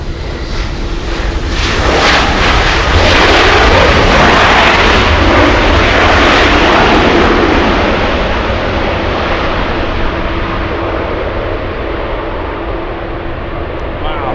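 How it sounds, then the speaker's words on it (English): A United Airlines Boeing 757 jet takes off at LAX with a loud, broad roar that swells over several seconds and then slowly recedes into a lingering rumble. "Let's go for the United Airlines 757."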